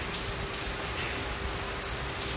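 Rain falls steadily on a rainy morning, a soft, even patter of drops on a surface that stays at a constant low level the whole time, with no voices.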